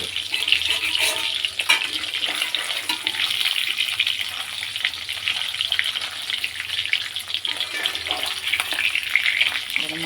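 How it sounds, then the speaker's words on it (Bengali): Fish frying in a pan in a home kitchen gives off a steady, bright sizzle and crackle that stays even and close for the whole stretch, with no talking. "মাছ ভাজা হচ্ছে দেখো"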